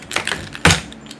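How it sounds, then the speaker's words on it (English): Computer keyboard keys pressed at home: a few sharp, close clicks and taps in quick succession over about a second, with no speech. "You're just going to be noisy out here and touch the keyboard"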